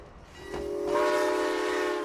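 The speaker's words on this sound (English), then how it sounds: "antique rail cars pulled by hard-working steam and diesel locomotives" A Maine Narrow Gauge Railroad locomotive pulling antique rail cars along Portland's waterfront sounds a sustained horn that swells in and holds steady over low rumbling from the train, moderately distant.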